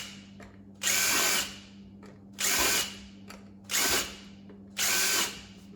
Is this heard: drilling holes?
yes